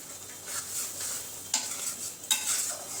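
Masala with garam masala powder and green chillies being stirred and fried for a Bengali duck curry, a steady close sizzle broken by two sharp scrapes of the spoon against the pan.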